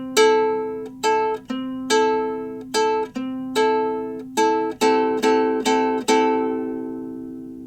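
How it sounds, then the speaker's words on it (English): Ukulele plucked on open strings without chords in a steady counted pattern, about a dozen bright, clean single notes ringing close and alone with a long sustained tail. "the strumming pattern should sound like this without any chords"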